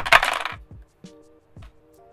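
Dice are re-rolled during a tabletop game of Pequeñas Grandes Galaxias: a short, close, bright clatter followed by a few separate light clicks and taps as the dice settle on the table.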